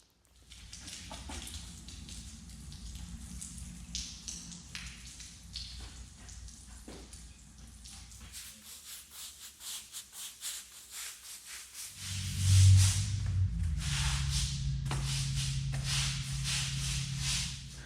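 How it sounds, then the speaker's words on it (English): A broom scrubs back and forth across a floor flooded with Sentinel 626 adhesive remover, giving wet, rhythmic bristle swishes and scratches up close, heavier and louder in the last few seconds. "come back with a broom and agitate the solution"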